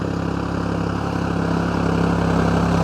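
A tractor engine drones steadily while spreading NPK fertilizer over tall grass fields, a constant low hum with a fixed tone throughout, no talk.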